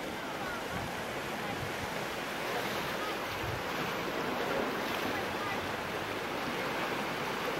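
Ocean waves washing onto a beach in Anguilla, a constant, fairly soft roar of surf mixed with wind noise, even and continuous with no voices.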